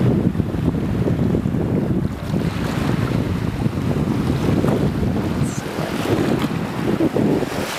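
Ocean waves roll onto the beach at Sanibel Lighthouse in a continuous rushing wash, heavily mixed with loud wind buffeting the microphone, steady and close with no talk.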